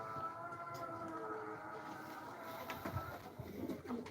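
Racer pigeons, a grizzle racer and a red checker racer, coo in a loft where birds sit on eggs, low steady cooing over a continuous murmur of the flock, fairly close, with a few louder calls toward the end.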